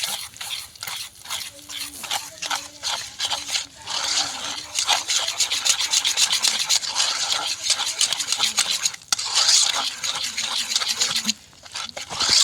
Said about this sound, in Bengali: দুধটা কিন্তু খুব একটা গরম না একদম হাত উষ্ণ গরম অল্প অল্প করে দিয়ে একটা বেটার বানিয়ে নেব